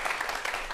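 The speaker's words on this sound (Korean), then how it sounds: "오늘 주인공 두 분을 큰 박수로 모시겠습니다" Studio audience applause welcoming two guest lecturers onto a Korean TV talk show about space travel, a brief steady wash of clapping at moderate level.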